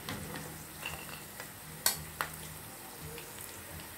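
Sliced sausage is added to a pan after potatoes were half-fried, giving a soft, close sizzle with a couple of sharp clinks from a utensil against the pan.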